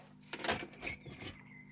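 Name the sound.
car key being removed, keys jangling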